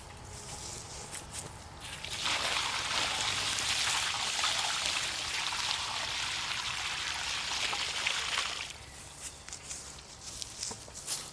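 Water pours steadily into a newly dug watering hole, a broad rushing splash lasting several seconds and then cutting off, leaving quieter outdoor ambience.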